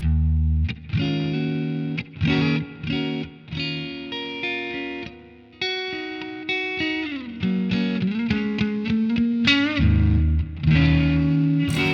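Electric guitar through a Mooer Preamp Model X modelling a Fender Deluxe Reverb amp, chords and single notes played in bursts, fairly crunchy with a light reverb tail, no talking.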